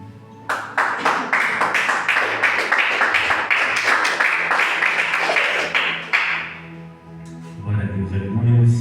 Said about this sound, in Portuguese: A igreja pode se assentar e aplaudir uma missão para o Senhor.